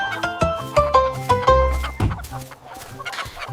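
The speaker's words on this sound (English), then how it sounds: "Rooster crowed from barn so tall, woke the farm with cheerful call" Cartoon rooster on a farm sounds in a nursery-rhyme song, with bright clucking and crowing calls landing in short rhythmic bursts over a bouncy musical backing.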